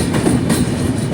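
Humsafar Express crosses a rail-cum-road bridge with a loud, steady rolling rumble and faint rhythmic clacking of wheels, heard up close.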